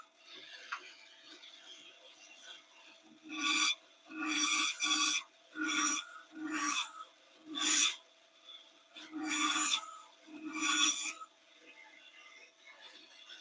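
Bandsaw cutting a kerf into a wooden board in a home workshop, heard as about eight short rasping bursts of a second or less each, moderately loud against a quiet background.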